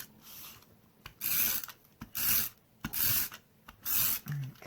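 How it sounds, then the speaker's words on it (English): A tape runner lays adhesive on a shaker card in four or five rasping, ratcheting strokes, each about half a second long, separated by short pauses, heard close and alone. "I think I'll just use this same tape runner."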